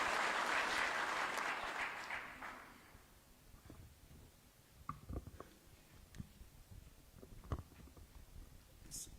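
An audience bursts into loud, dense applause at a luncheon and debrief for a returning multinational security mission contingent, honouring the National Security Advisor. The clapping fades over a few seconds, leaving sparse room noise and a few scattered knocks.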